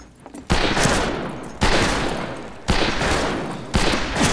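Gunfire in the western shooter game Fistful of Frags, four loud close gunshots about one second apart, each followed by a sharp echoing decay.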